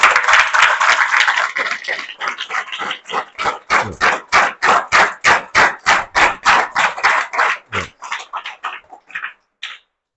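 An audience of students in a classroom claps loudly in unison, starting as a rapid scatter of hand claps and settling into a steady, evenly spaced rhythm of sharp beats that thins out and stops near the end.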